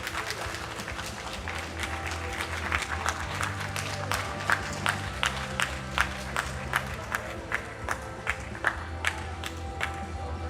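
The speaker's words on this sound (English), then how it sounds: "a big round of applause for our 83 kilo Masters 1 men" Audience applause and some cheering at a world classic powerlifting championship for the 83 kg Masters 1 men, a steady crowd wash with distinct sharp claps, over a low musical drone.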